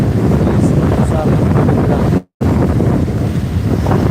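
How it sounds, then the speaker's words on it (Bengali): Strong wind roars across an open mic aboard a boat on a rough sea bound for Sandwip, a loud, steady broadband rush with waves beneath and a brief dropout midway. "মোটামুটি ভালোই বাতাস আছে তো বাতাসে ভালোই সাগর উত্তাল"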